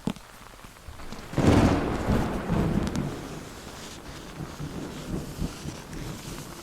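A thunderstorm outside with rain, a loud rolling rumble of thunder swelling after a brief pause, then easing into a steady hiss of rain and wind noise.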